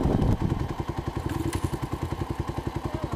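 Dirt bike engine running at a steady, fast-pulsing putter after an initial louder rev, close to the microphone, no voices.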